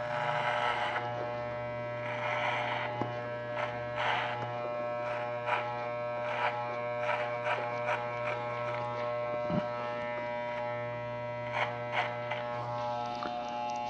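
An electric hair clipper fitted with a comb guard buzzes steadily at close range while cutting a short social-style haircut, with soft rustling and snipping bursts over the constant motor hum.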